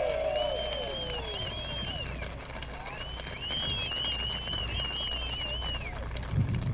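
Gallery at a professional golf championship applauding a well-struck shot, a steady outdoor spread of clapping and murmuring that carries through the whole stretch with birdlike whistles above, no speech.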